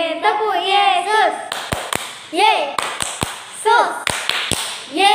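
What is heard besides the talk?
children clapping hands in rhythm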